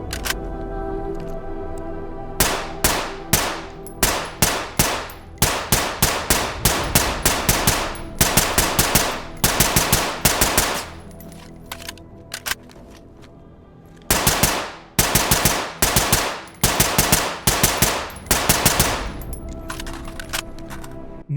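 M4 rifle fire in the video game Ready or Not: repeated loud bursts and rapid single shots in quick rhythmic clusters, with brief pauses and reload-like gaps between volleys.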